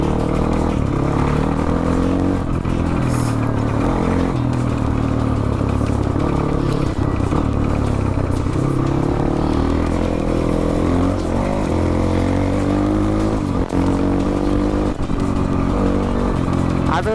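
A dirt bike engine drones and revs continuously on a rough hillside ride in Nepal, loud and close with shifting pitch and clattering, while voices talk over it.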